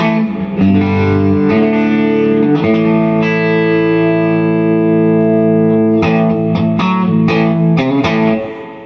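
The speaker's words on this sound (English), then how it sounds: "You can hear the reverb, tube driven reverb." Clean electric guitar chords ring through an Ironhorse Heritage 1x12 tube combo amplifier with tube-driven spring reverb, sustained notes blooming and trailing off, then quick strummed hits near the end.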